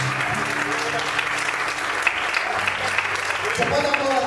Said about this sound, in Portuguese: Você pode aplaudir e exaltar o Senhor por isso.